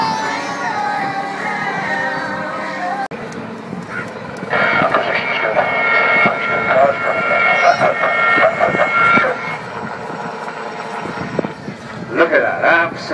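A microlight light aircraft drones overhead at the Southport Airshow, its engine tone rising and holding loud across several seconds. A commentator talks over the public address throughout.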